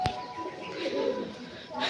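Pet pigeons cooing in a home loft, soft low throaty coos near the microphone amid light rustling, with a sharp click at the start and a brighter noise burst at the end.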